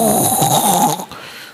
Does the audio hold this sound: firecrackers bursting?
no